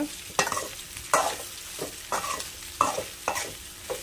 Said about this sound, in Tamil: மீல் மேக்கர் ஆட் பண்ணிக்கலாம் நல்லா மிக்ஸ் பண்ணி வச்சுக்கோங்க